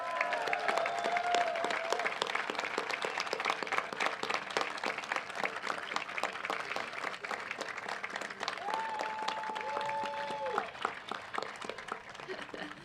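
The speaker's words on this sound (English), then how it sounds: "Graduates, we ask that you give them a round of applause" Sustained applause from a large crowd at a university commencement ceremony, dense and even for several seconds, with faint tonal sounds and a murmur of voices beneath the clapping.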